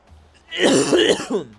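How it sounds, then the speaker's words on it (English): A single harsh throat-clearing cough from a person recovering from COVID, close to the microphone and loud, lasting about a second with a rough, gravelly rasp. "still have this stupid cough"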